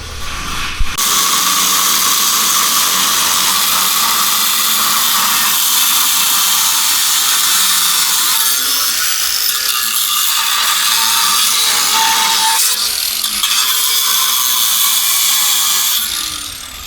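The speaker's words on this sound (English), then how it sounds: "in there with the cutoff wheel, getting those cut out" A cutoff wheel grinds steadily through tight-fitting parts on a Suzuki Samurai during a rebuild, a loud continuous abrasive whine lasting nearly the whole stretch with slight dips in pitch as it bites.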